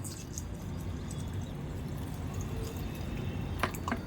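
Water pours steadily into four cups of basmati rice in a village kitchen, a continuous soft rushing splash with a few brighter drips near the end.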